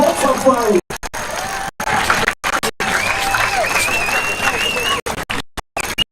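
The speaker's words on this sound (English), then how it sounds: "Come on, big cheer for both America and England." A crowd of spectators cheers and applauds after an armored fight between American and English teams, a broad roar of voices with whistles rising and falling, briefly cut by gaps.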